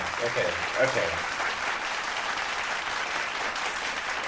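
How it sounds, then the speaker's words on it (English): Steady group applause fills the whole stretch at an even level, with a voice briefly heard over it at the start. "Let's do 2 claps. Let's clap. Just the general clap."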